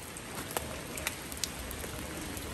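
Heavy rain from Typhoon Yagi pours steadily on a street in Hanoi, a dense continuous hiss with a few louder drips and taps scattered through it.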